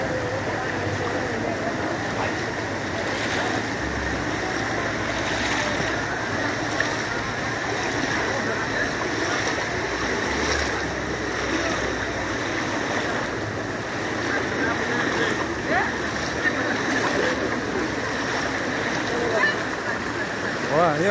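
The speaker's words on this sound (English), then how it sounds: "Look at this log being driven away by water." Floodwater rushes steadily after heavy rains in Garissa, Kenya, carrying a log along; a continuous broadband roar of flowing water with wind noise, unbroken throughout.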